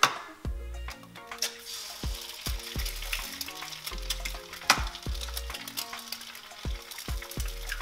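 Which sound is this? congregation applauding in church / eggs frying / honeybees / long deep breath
eggs frying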